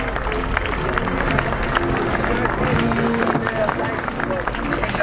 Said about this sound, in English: And you can hear that applause.